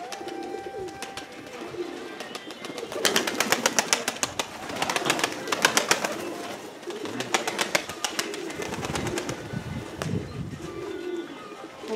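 Pigeons in the village of Shakhovo coo over and over in low, throaty rolls, close by, with a busier burst in the middle and faint background chirps.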